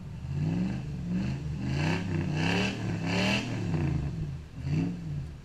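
Off-road vehicle engine with a 3.5-inch exhaust revving repeatedly up and down, loud and close, with throaty harmonic surges and a rumbling idle between pulls.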